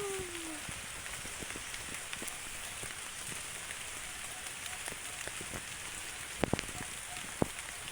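Steady rain patters on a surface, a dense continuous hiss with scattered louder drops and a few sharp taps near the end.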